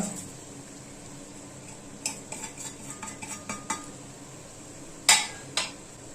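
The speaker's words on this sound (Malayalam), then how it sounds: "ആവശ്യത്തിന് ഉപ്പ് ഇത്രയും കൂടെ ചേർത്ത് കൊടുത്ത് നല്ലപോലെ ഇളക്കി കൊണ്ട് മിക്സ് ചെയ്യണം" Metal spoon stirring garam masala into a duck roast in a pan, a quiet low background broken by a run of clinks and scrapes, then two sharper knocks against the pan near the end.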